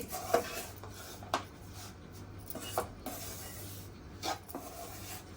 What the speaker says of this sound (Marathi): गॅस बंद करून फक्त एक मिनिट परतून घ्यायचं आहे